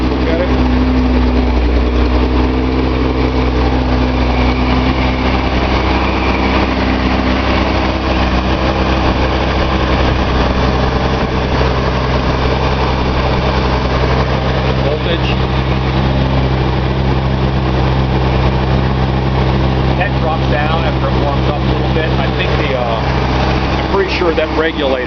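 A Datsun 280Z engine idles on a test stand, a loud, steady, close engine drone with an even low rumble throughout and a voice talking over it.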